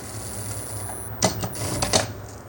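A sewing machine stitching a seam on fabric for a small organizer pouch, two short bursts of fast mechanical whirring after a steady background hum, close and moderately loud.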